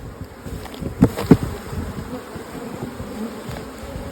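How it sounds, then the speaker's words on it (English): Honey bees tipped into a nuc box make a dense, close buzzing drone that holds steady, with a couple of brief louder thumps or knocks near the start. "I'll tip these bees in there"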